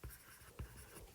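Faint scratching strokes of writing on a board during a biology lesson on enzymes and protein folding, with a few short, soft scrapes in a quiet room.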